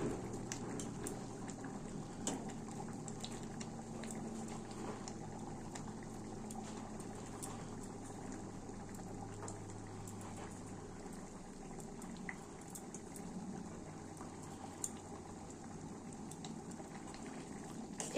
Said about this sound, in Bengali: এরপর আমরা এটা কিছুক্ষণের জন্য ফুটতে দিয়ে দেব। এটা ফুটে গেছে।